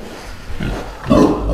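A pig on a farm grunts and snorts in a few rough, close bursts over steady background noise.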